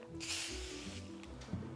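A spray bottle gives one short, soft hiss of mist onto a napkin being ironed, faint and close, followed by quiet handling noise.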